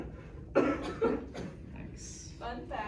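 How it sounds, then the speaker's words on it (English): A person coughs twice in quick succession, sharp and close, followed by a strained breathy sound and a faint hiss, in a quiet room. "Why am I coughing with blood?"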